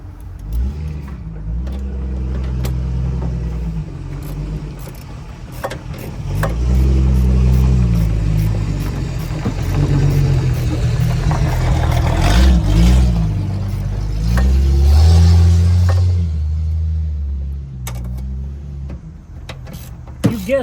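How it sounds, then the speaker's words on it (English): A Jeep passes close by on the road, its engine note swelling and fading in several surges as it drives past, loud and rough, with no talking over it. "Guess what drove by was a Jeep."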